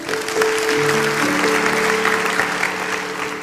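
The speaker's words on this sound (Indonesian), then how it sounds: "Kasih tepuk tangan untuk Tuhan Yesus." Congregation claps during a church sermon, a dense, continuous burst of applause over a held sustained tone, steady through the whole stretch.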